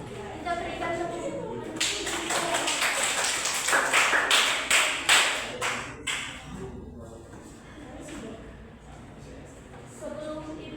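A classroom gives a short round of applause, a burst of many hands clapping that swells, peaks and then fades into a few scattered claps, with voices murmuring underneath.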